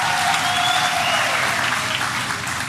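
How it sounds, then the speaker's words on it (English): Crowd applause at a political party event in eThekwini, dense steady clapping from a large audience, with a faint tonal whistle or cheer riding over it. "Let's give them a great round of applause as well."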